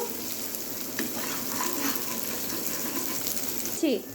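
Green chilies fry in a pan at home, a steady close sizzle with light stirring, and a short squeak near the end.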